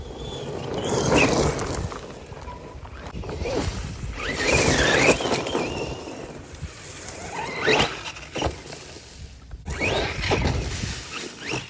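Losi Lasernut RC truck driving through woodland, with a busy, continuous whirring motor mixed with rustling, crunching bursts and scraping squeals as it rolls over brush and ground debris, fairly close and steady throughout.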